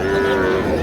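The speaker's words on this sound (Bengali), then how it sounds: "গাভী বাছুর" A cow at a rural cattle market gives one short, close, loud moo.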